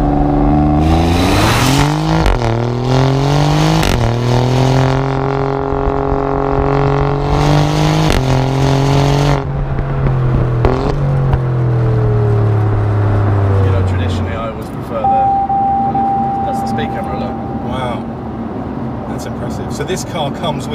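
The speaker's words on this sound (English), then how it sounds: "you only get full bore exhaust sound in race" Alfa Romeo Giulia Quadrifoglio in race mode revs hard through several rising gear pulls, its exhaust loud and close, then eases off to a lower drone and fades as the car settles, with faint voices near the end.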